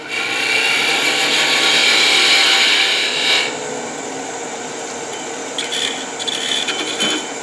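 A wood lathe cutting a small dovetail tenon on the end of a wooden box piece, giving a continuous rasping, scraping hiss of the tool on spinning wood that is loudest early and eases, with no talk.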